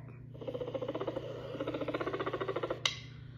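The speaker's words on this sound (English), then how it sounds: "Black-tailed jackrabbit." Black-tailed jackrabbit calling with a rapid series of soft, evenly pulsed squeaky chirps that run continuously for nearly three seconds, ending in a sharper click, fairly close and without any voices.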